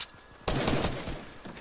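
Sudden loud gunfire aimed at the player in Fortnite, a dense, close burst that starts abruptly and keeps rattling for over a second.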